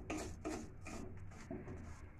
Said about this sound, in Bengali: এখন আমি হাই ফ্লেমে রেখে এটাকে এইভাবে নাড়তে থাকবো।